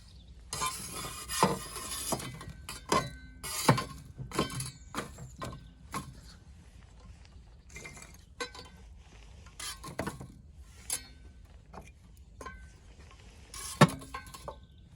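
Wood and charcoal fuel shifted around inside a Gozney Dome wood-fired oven, giving a run of irregular clinks, scrapes and clattering knocks, some sharp and close, with quieter gaps between bursts.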